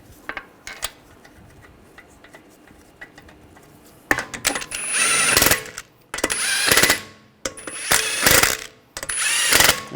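Lug bolts being run down on a 2009-2010 BMW 535 xDrive wheel: a few light metallic clinks, then four loud, close bursts of power-tool whirring and rattling, each lasting about a second with short pauses between.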